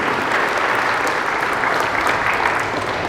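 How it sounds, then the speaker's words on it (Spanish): Loud, dense applause fills a church as the congregation claps after a scripture reading in a Spanish-language service. The clapping is steady and sustained throughout, with no talk over it. "A ver, dele un aplauso a la palabra de Dios"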